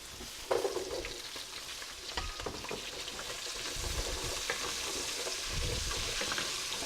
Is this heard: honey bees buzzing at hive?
no